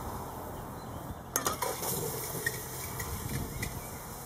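A cooking pot is handled outdoors near a wood-burning rocket stove, giving a few light metallic clinks and knocks over a steady low background hiss.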